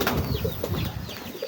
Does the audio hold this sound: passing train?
no